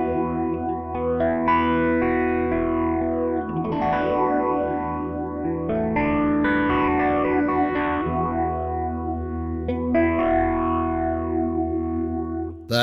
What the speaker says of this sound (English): it's really interesting to hear Sony's take on these effects in stereo.